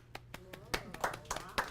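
A handful of people in an electric-vehicle club meeting give scattered, uneven handclaps, sharp separate smacks with short gaps, lightly mixed with a murmuring voice.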